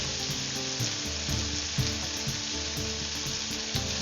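Tomato and chili pepper sizzling loudly in a pan for a fish adobo, a dense continuous frying hiss with soft rhythmic stirring pulses throughout, no voices.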